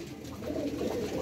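Pigeon cooing, a soft low repeated coo from a racing pigeon bred for endurance flights, steady and fairly close with no talk over it.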